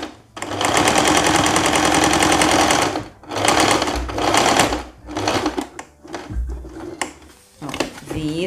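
A sewing machine topstitches a long winter blazer, running in loud rapid bursts that stop and start with pauses, and the fabric is handled in between.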